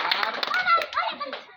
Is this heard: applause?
yes